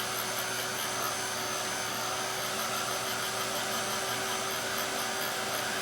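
A hair dryer blows steadily and close, drying acrylic paint on a pumpkin painting, a constant whooshing motor roar with no pauses or voices.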